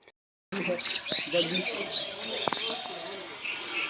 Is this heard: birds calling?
yes